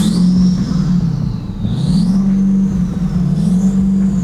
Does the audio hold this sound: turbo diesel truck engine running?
yes